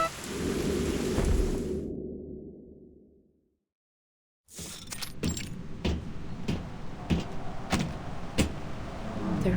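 Thunderstorm and rain in the Reverse 1999 video game: a heavy rumbling roll fades to near silence, then rain patters steadily with sharp crackling strikes recurring, fairly loud and close.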